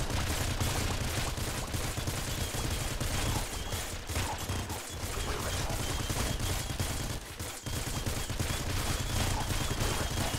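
In the video game Nuclear Throne, enemy gunfire and lasers crackle in dense, continuous bursts of rapid shots, with game sound layered throughout and two brief dips in the barrage.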